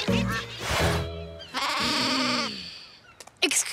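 A cartoon sheep-lure gadget switched to its sheep mode lets out loud, wavering bleats in two long calls. A few short sharp noises follow at the end.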